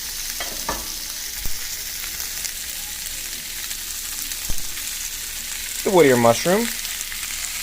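Mushrooms and other chop suey ingredients fry in a pan with imitation crab meat, a steady broadband sizzle running throughout, a few brief clatters of stirring, and a short spoken phrase near the start.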